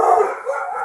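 Dogs at an animal shelter let out a sustained howling bark, loud and close, filling the brief moment without any talk.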